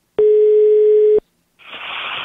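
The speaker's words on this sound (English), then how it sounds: "Dave, why does your phone ring like that?" A telephone rings with one steady, unbroken electronic tone lasting about a second, loud and alone, then cuts off abruptly before a hissy noise begins.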